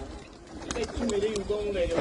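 Domestic pigeons at a Punjabi village sarpanch's home coo in low, wavering calls over about two seconds, close by, mixed with background noise.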